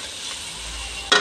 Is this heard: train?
no